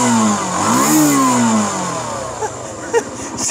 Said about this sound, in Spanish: Y así estaría sonando la Kiway RK150